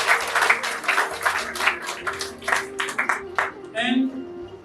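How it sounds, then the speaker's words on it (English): Scattered audience clapping at a book talk event, irregular bursts of hand claps mixed with people speaking over them, moderately close. "please clap for yourself."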